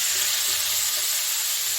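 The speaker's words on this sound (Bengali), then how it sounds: "মোচাটাকে একটু ভেজে নিচ্ছি হালকা" Mashed banana flower (mocha) frying lightly in oil with kalo jeera (nigella seeds) in a home kitchen gives an even, continuous bright hiss of sizzling, close and steady throughout.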